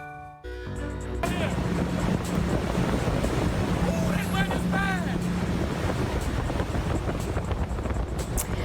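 Strong wind roaring across an oil rig south of Grand Isle, Louisiana in the Gulf of Mexico during Tropical Storm Cindy, a loud, continuous buffeting rush against the microphone with a faint voice briefly audible underneath.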